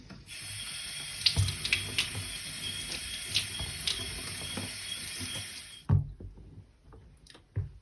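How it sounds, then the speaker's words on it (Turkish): A kitchen tap runs steadily while bell peppers are rinsed for stuffed dolma, with clinks and splashes from handling; the water cuts off near the end, leaving a few quiet knocks. "Diğer biberlerim şurada ben bir yıkayıp geliyorum hemen."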